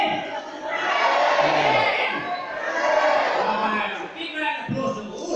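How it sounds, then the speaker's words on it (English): A theatre audience at a live show shouts together in loud, swelling group cheers, two or three broad waves of massed voices rising and falling close by. "I need you all to shout out, hooray!"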